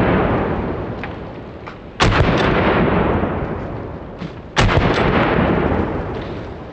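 A Panzer Arms M4 semi-automatic shotgun fires hot double-aught buckshot outdoors, two loud, close blasts a few seconds apart, each followed by a long rolling echo.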